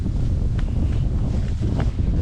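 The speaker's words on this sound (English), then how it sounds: "I'm walking into the wind" Strong wind buffets the microphone while someone walks outdoors on public hunting land in Missouri, making a steady, loud, low roar with faint rustling and no pauses.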